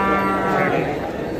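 A black Murrah buffalo at the Kurali livestock market gives one long, loud, close moo that holds steady and then fades slightly.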